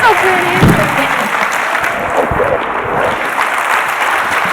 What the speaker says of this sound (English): give Allison a huge round of applause